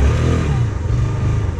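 A motorcycle engine warms up at idle, a close, loud, steady low rumble with slight rises in pitch.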